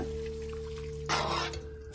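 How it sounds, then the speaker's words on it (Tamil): A short splash of a tumbler of water poured into a pot of vegetable kurma, brief and fairly quiet over a steady low hum from the stove. "ஒரு டம்ளர் தண்ணி சேர்த்துடுறேன் இதோட"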